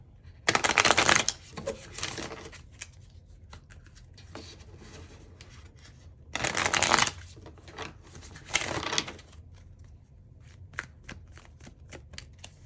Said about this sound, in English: This cards don't want to come out. Let's shuffle some more.